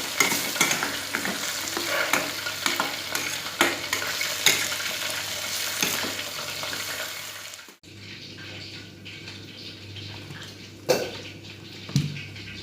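Tofu being stirred in oyster sauce with sweet soy sauce and a little salt in a pan, a steady close sizzle with repeated spatula scrapes against the metal, easing quieter midway and ending with a few sharper clinks.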